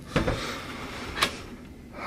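A cabinet drawer in a cruise ship spa balcony cabin on the Carnival Breeze is opened and closed, giving two short wooden knocks about a second apart in a quiet room.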